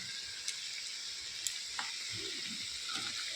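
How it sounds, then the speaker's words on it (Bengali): Cumin, dried red chilli and ginger fry in hot oil as a spicy brinjal dish begins, giving a steady, moderate sizzle close by with a few faint clicks and taps from stirring. "তো মশলাটা ভালো করে আমি কষে নেব।"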